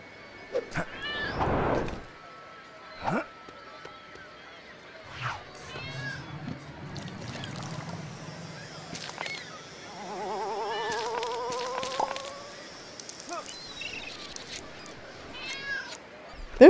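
A cat meows a few times in the video game LEGO City Undercover, short separated calls among sparse game sound effects and a low hum, with quiet stretches between.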